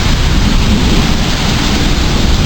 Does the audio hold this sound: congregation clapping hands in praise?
no